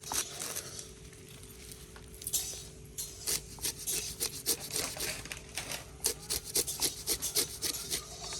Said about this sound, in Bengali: এখন আমি শাকটা কুচে দিদিরে রেডি করে দিচ্ছি।